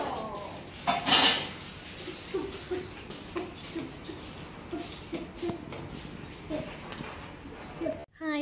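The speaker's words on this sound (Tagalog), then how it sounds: "Si Daddy nagugas ng pinggan na." Dishes are washed in a home kitchen with repeated clinks and clatters of plates and cutlery, including a louder rattling burst early on, while people talk in the background.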